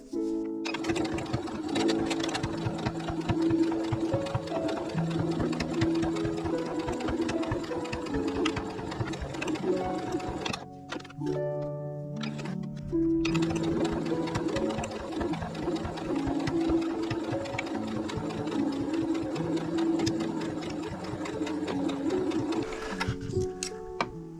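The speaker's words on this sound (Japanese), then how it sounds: "持ち手も縫っていきます。" A sewing machine stitches the handle of a heart-shaped pot holder, running in a loud, steady mechanical whir that pauses briefly near the middle before starting up again.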